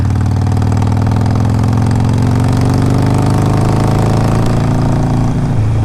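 A 2007 Harley-Davidson 883R motorcycle engine idles steadily, a loud, close, low throbbing rumble with a continuous even pulse and no talking.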